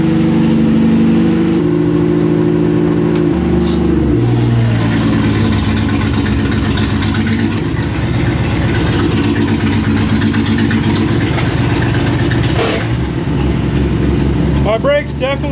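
A car engine idles and warms up, its steady low rumble shifting in pitch with a few revs, loud and close, with a sharp clatter near the end.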